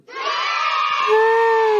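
A crowd cheers and shouts in a sustained burst, with high children's voices and whoops swelling in loudly and holding to the end.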